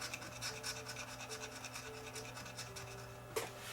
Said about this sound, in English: we'll take off the solder mask